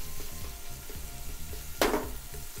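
Onions frying on a hot barbecue grill in a steady, close sizzle, with one louder hissing burst as they are moved or flipped partway through.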